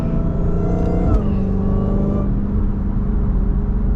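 A Dodge Hellcat engine revs and settles into a throaty idle, with a few sharp exhaust pops near the start.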